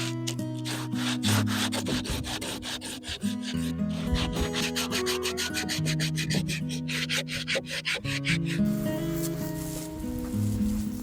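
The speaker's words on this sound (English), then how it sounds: "I've taken my sanding block and it's going to fit perfectly in that dado." Rhythmic scraping of a sanding block on wood inside a dado of a garden bridge, brisk back-and-forth strokes repeated steadily, with a low musical drone underneath.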